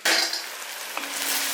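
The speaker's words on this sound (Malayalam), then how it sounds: "അപ്പോൾ ഇടയ്ക്കൊന്ന് ഇളക്കി കൊടുക്കണം." Tomatoes cooking for pickle are stirred in a pan, a bright, steady sizzle with a brief scrape of the utensil, close and with no voices.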